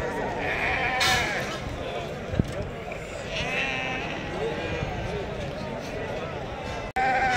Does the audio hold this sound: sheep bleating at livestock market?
yes